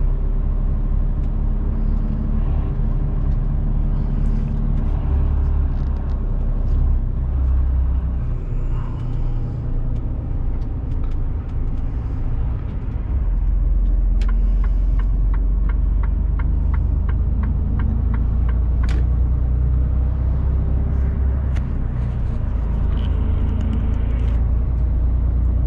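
A car carrying costly machinery rolls along slowly, giving a steady low engine and road rumble that stays even and fairly loud throughout, with no voices.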